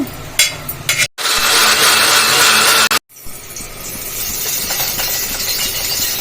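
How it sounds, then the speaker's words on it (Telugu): A kitchen mixer grinder blends tomatoes for rasam, giving a loud, close, dense whirring roar that runs in bursts and cuts out sharply twice before starting again. "చారు కోసం అయితే ఈ టమాటా మిక్సీ పట్టేస్తున్నా"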